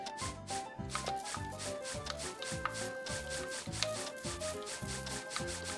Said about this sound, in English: it starts with grating some cheddar cheese